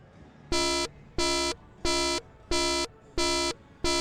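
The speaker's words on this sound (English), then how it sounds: "that was my Johnny Rockets warning buzzer" A restaurant warning buzzer at a Johnny Rockets in a Las Vegas shopping mall sounds in six loud, evenly spaced harmonic blasts, each about a third of a second long, over quiet background murmur.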